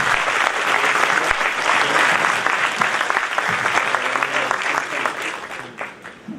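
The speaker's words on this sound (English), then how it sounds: "Henry, I think perhaps we can give Henry a round of applause for..." A round of applause from a conference audience after a stage discussion, dense and even clapping that fills the room with no break before tapering off near the end.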